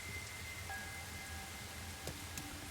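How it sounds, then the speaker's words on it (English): Steady rain hiss falling in a detective video game set in a rain-soaked city, a constant soft wash with a few brief chimes and tones over it, no voices. "Oh no, it's raining."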